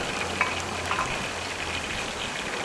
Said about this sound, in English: right now the pork is all cooking